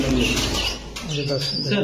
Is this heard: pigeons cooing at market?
yes